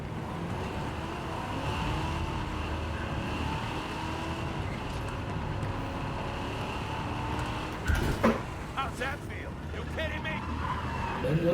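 A car drives in a video game with a continuous engine hum and road noise, ending in a short burst of impacts and skidding, while voices talk over it.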